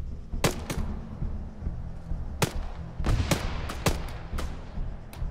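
Sharp gunshots from the Arma 3 battle royale video game ring out in an irregular burst of about ten cracks, some isolated and some in quick pairs, over a low rumbling background.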